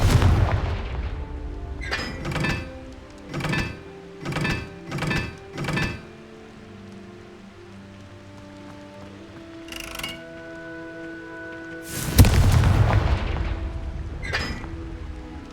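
Fire-spell explosions from the Hogwarts Legacy video game, a series of heavy booming blasts in quick succession, then sparse hits and a louder crash near the end.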